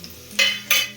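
Shallots and curry leaves frying in oil with mustard seeds for a Kerala moru curry tempering, a low sizzle broken by two short bursts of loud scraping or stirring, close and without voices.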